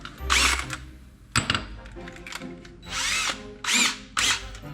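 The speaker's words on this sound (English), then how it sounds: "I'm gonna use my drill." A cordless power drill drives screws while an electrical outlet is installed, giving several short, close whirring bursts with pauses and clicks between them.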